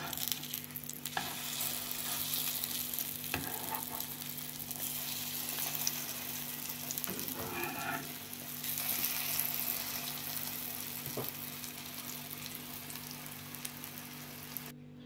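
A wild garlic, egg and flour dish sizzles slowly in a pan, a soft, steady frying hiss with faint crackles throughout.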